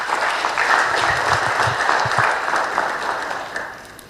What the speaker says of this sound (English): let us applaud the Secretariat